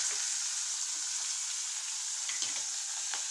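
Oil sizzles and crackles steadily in a hot pan as urad dal, mustard seeds, curry leaves, tomato, onion and chili fry, a continuous close hiss with occasional small pops.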